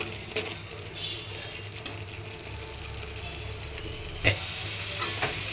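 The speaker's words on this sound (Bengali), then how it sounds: "এদিকে মশলা কষানো হচ্ছে।" Turmeric, chili and coriander spices stir-fried with browned onion in a pan, a steady close sizzle under scraping stirs, with a sharp clatter near the end and faint background noise from nearby construction work.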